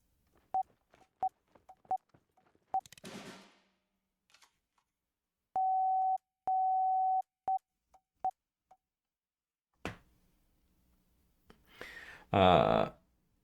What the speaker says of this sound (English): this obviously works like actual Morse code